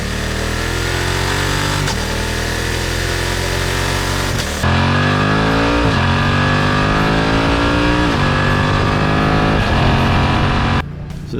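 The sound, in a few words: BMW F 900 XR motorcycle twin engine revving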